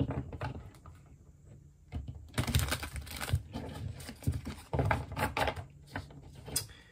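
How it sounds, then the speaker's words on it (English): Crisp riffling and soft slapping of tarot cards being shuffled, in quick bursts close by, with no talking. "One more shuffle this way."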